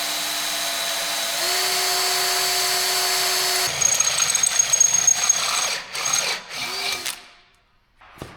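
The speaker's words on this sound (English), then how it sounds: "We're going to drill these holes a bit oversized anyway, so we can make sure we're all lined up." A power drill bores holes through fiberglass during a Mack truck repair, a steady high motor whine that rises in pitch, then grinds and chatters as the bit cuts before winding down into quiet.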